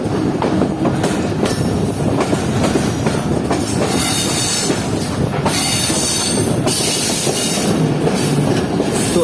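Fareed Express passenger train rolling along the rails on the line from Lahore toward Karachi, with a steady loud rumble, rhythmic clickety-clack of the wheels and occasional wheel squeal, heard close from on board.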